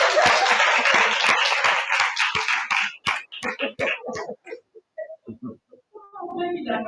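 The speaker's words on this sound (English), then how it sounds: "Y'all clap for Miss Maria." Audience applause for Miss Maria at a grief symposium, a dense burst of clapping that thins into scattered claps after about three seconds, then a voice speaks.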